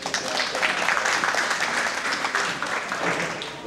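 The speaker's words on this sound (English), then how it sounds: "Give all them another round of applause." Audience applause fills a steer show arena, a sustained dense wash of clapping that stays steady and fairly loud throughout with no talk over it.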